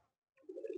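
Pigeons, a male and a female, give a short close coo, opening with a faint low murmur before a fuller cooing phrase swells near and fairly loud at the end.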